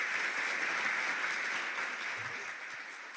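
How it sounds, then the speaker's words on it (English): Steady applause from an audience at a youth convocation, a dense even wash of clapping that holds at a constant level and fades only slightly toward the end. "Please let us receive her with a round of applause."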